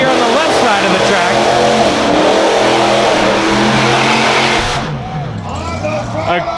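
A monster truck roars through donuts on a fair arena track, its engine revving loud and sustained with rising and falling pitch, crowd and announcer noise mixed in, easing off near the end.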